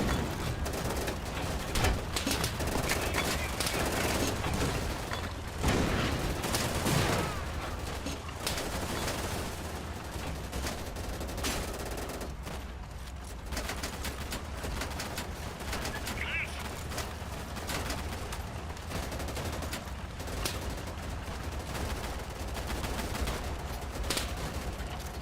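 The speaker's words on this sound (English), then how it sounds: "We're out of ammo with the machine guns." Machine gun fire in the World War II shooter Easy Red 2, set in France 1940: dense, continuous bursts of gunfire and overlapping shots, loud and unbroken throughout, with faint voices talking under the battle noise.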